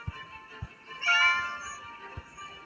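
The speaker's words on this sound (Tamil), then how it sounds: "இந்த இது பூனை தானே." A cat meows in the video game Scary Teacher 3D, a single clear drawn-out meow in the middle over a quiet background with a few soft low thumps.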